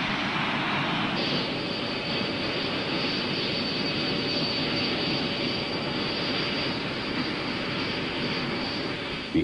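A combat jet powered by two RB-199 engines roars past in a loud, steady broadband rush with a faint whine on top, sustained and uniform throughout with no talking.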